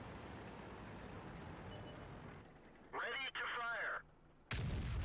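Tank cannon shots in the video game World of Tanks, heard as loud blasts with ringing mechanical tails that start about three seconds in over a rumbling battlefield bed, then a second booming shot near the end.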